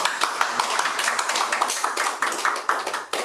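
A church congregation claps in welcome, with rapid, uneven hand claps from a modest group sounding close and fairly loud for about three seconds.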